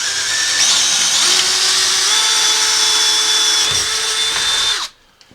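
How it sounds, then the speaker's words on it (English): A loud power drill whines steadily while boring a half-inch hole through pine, its pitch shifting slightly under load, then cuts off abruptly near the end. "I'm going to drill a 1/2 inch hole through it."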